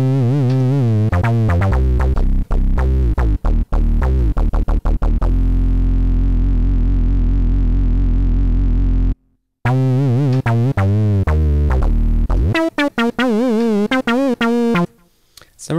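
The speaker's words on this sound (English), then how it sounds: "Somewhere around 5 hertz is a good LFO speed for pitch LFO." A Sylenth1 software synth bass plays loud sustained notes whose pitch wobbles rapidly under LFO modulation, with the vibrato speed changing, a brief silence partway through and short choppy stabs near the end.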